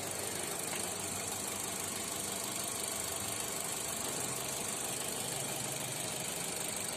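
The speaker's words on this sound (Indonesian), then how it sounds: "Untuk suara mesin sih halus teman-teman, seperti itu." Idling engine of a Mitsubishi Xpander Cross with a 1500 cc engine and manual gearbox, giving a steady, smooth hum with a light rattly texture that holds at an even level throughout and has no talk over it.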